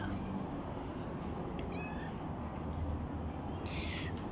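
A house cat gives one faint, short meow, nearly buried under a steady, loud background hiss.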